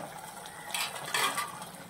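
Water pours into a cooking pot of country chicken curry, a short liquid gush with splashing that swells twice over about two seconds, close and fairly quiet.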